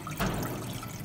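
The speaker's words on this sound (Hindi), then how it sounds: "अब इसमें 2 कप पानी डाल दिया हमने" Water poured into a cooking pot on a lit stove for a spiced kawa brew, a short continuous splash and trickle that is fairly loud throughout.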